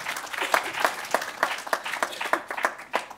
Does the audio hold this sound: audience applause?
yes